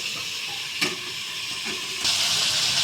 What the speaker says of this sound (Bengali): আমি চিকেনটাকে একটু নেড়ে ঢেকে দিলাম।